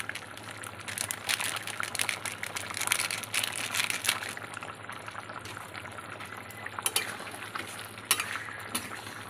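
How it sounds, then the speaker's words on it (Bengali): Chicken kofta balls simmer in a curry gravy, the pot giving a steady close bubbling and gentle sputtering with faint clinks of cookware and no talking. "এবার কোপ্তাগুলো সব দিয়ে দিলাম ঝোলের মধ্যে।"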